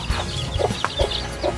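A crossbred hen clucks in a short run of close, moderately loud calls over steady outdoor background noise.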